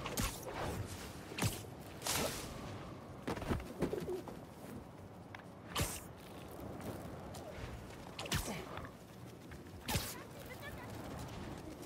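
Pigeons coo intermittently in Marvel's Spider-Man 2, mixed with game ambience and sharp whooshing swings and impacts that recur every couple of seconds.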